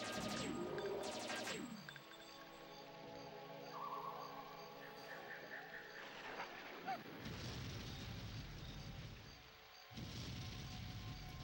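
Homing missiles exploding in Jet Force Gemini on the N64, booming blasts and rumbling impacts with electronic game effects layered over a continuous roar, moderately loud.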